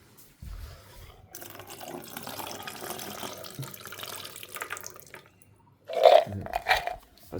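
Tap water runs into a sink as chickpeas are rinsed by hand, a steady moderate splashing stream that stops briefly, then returns louder and choppier near the end.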